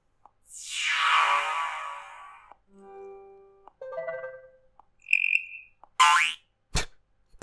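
Several Lineage OS notification sounds from a ROG Phone 2 play in turn: a long swooping tone, then soft beeps, a bright chirp and sharp clicks, all near and clear with no voices.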